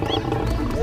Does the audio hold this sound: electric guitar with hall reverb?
no